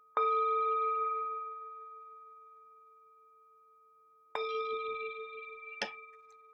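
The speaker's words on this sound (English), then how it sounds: "The sound of this beautiful bell returns us to our true home." A bright meditation bell is struck once and rings out, its tone slowly fading, then it is struck again with a short metallic clink near the end.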